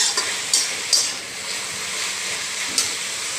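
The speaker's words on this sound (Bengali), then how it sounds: "ভাজি লৈছোঁ" Mushrooms and roselle leaves for a curry fry in a pan with a soft, continuous sizzle, broken by a few sharp clinks of a utensil against the pan.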